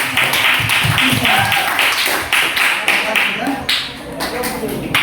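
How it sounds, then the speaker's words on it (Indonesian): A room full of people clapping steadily for several seconds for a student group in a classroom, the applause loud and close with a few voices mixed in. "Tepuk tangan untuk kelompok."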